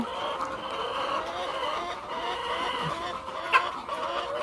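Chickens cluck softly and continuously nearby, several birds murmuring together with one brief sharper note.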